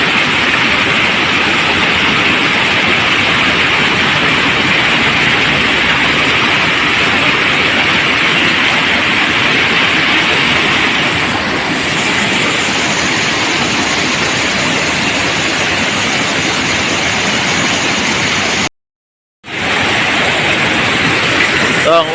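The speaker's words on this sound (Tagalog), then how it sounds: "Kusog kayong baha." Strong floodwater rushing across a highway after a day and night of rain, a loud, constant broadband roar with a brief dropout near the end.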